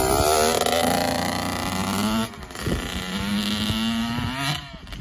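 A small two-stroke kid's dirt bike engine runs after a cold start, a buzzing tone that rises and falls with throttle blips and a brief dip in between, loud and close with no talking.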